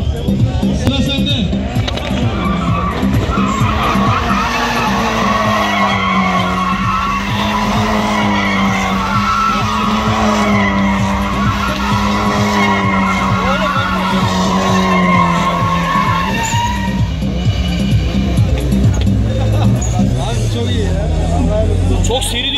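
A four-wheel-drive Mitsubishi Lancer Evo drifting with all four tires squealing and skidding at length, engine revving underneath, while people talk and chatter over it nearby.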